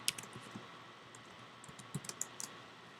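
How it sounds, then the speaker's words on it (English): Fingers tap out a password on a computer keyboard in a quick, faint run of light clicks with short pauses, heard up close in a quiet room. "We're going to need to type our password here."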